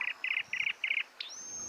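Native birds calling at Lihué Calel, Argentina: four quick buzzy chirping bursts in an even rhythm, then a thin sustained whistle, fairly close and clear against a quiet outdoor background.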